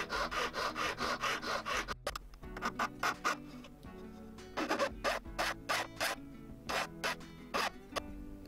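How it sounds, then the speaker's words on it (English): Hand file working the broken ends of a gold watch case to flatten them, giving repeated short rasping strokes in bursts, close and fairly quiet, with brief pauses between groups. "So I'll start by filing the broken ends,"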